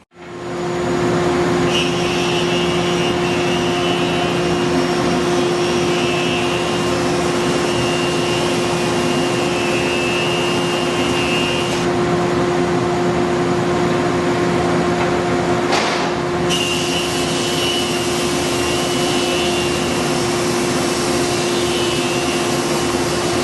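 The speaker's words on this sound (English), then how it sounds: "So let's fire up the dust collector. I'll get my hearing protection on, and we'll push this mahogany through." A dust collector and a Felder Hammer A3 41 jointer-planer run loud and steady while mahogany is fed through, with the cutter's pitch rising during two long stretches of planing.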